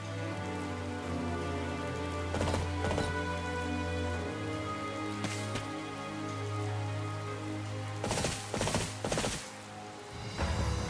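Steady rain pours in the video game Fire Emblem Three Houses, a continuous hiss of drops on surfaces with occasional louder splashy bursts, heard alone with no talking.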